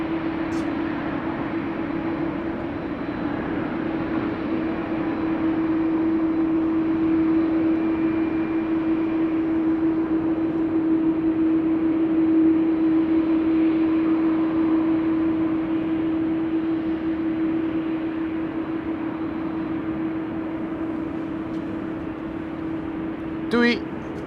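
Airbus A321 jet airliner at Amsterdam Schiphol, a continuous moderate engine rumble with a steady whine running throughout, a voice talking over it now and then.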